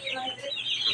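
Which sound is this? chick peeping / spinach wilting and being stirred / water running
chick peeping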